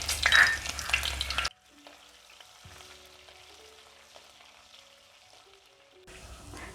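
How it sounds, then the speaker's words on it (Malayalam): Crushed ginger and garlic sautéing in oil with popped mustard seeds for a fish curry, a loud close sizzle in a short burst, then near quiet, then the sizzle briefly returns at the end. "ഒരു ചെറിയ കഷ്ണം ഇഞ്ചി ചതച്ചത്, വെളുത്തുള്ളി ചേർത്ത് നന്നായിട്ട് മൂപ്പിച്ചെടുക്കുക."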